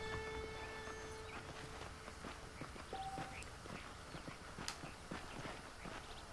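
Horse hooves clip-clop at a steady walking pace in the Western video game Red Dead Redemption, even rhythmic hoofbeats under a soft ambient background, fairly quiet and with no talk.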